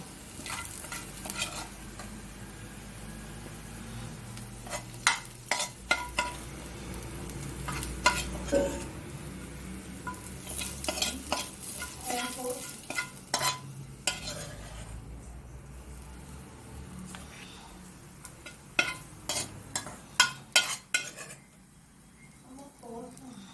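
Food fries and is stirred in a pan until brown, ahead of a tomato rice dish: soft sizzling under repeated scrapes and clinks of a spoon against the pan, fairly quiet, with a voice talking at times.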